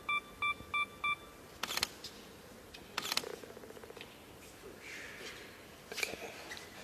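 A camera fires several shutter clicks during handheld long-exposure shots on a street in Istanbul: a few quick focus beeps open, then three sharp, separate clicks spaced a second or more apart over quiet background ambience.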